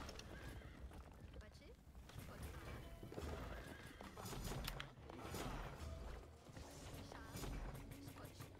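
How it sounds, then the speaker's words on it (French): Horses neigh and hooves clatter in the Age of Empires Online video game, with whinnies and clip-clop amid battle noise, fairly faint and mixed with people talking. "Oh putain, il y a des chevaux."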